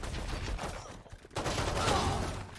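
Gunshots in a Valorant esports match, a steady patter of shots and game noise running throughout at moderate level, with a brief dip near the middle.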